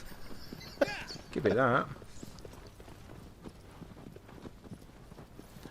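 Horse hooves in the video game Shadow of the Colossus, a soft, steady clip-clop of a ridden horse in the background, with someone talking briefly over it.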